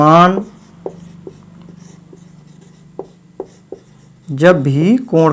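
Writing on a board during a maths lesson gives a series of short, light scratchy taps, moderately close. Speech comes before and after the writing.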